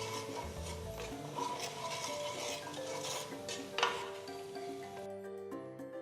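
Onions seasoned with salt, pepper and cumin are stirred in a pan, a continuous close scraping and rubbing of a utensil against the metal that breaks off near the end.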